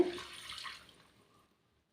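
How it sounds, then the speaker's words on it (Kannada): Water pours briefly into a pot of chicken curry, a short splashing rush that tapers off and fades to silence within about a second and a half. "ಇವಾಗ ನೀರು ಹಾಕೋತಾ ಇದ್ದೀನಿ"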